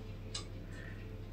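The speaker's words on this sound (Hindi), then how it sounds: "या घड़ी की टिकिंग है?" A clock ticks faintly and steadily in a quiet room, a few soft ticks over low background hum, with no voice.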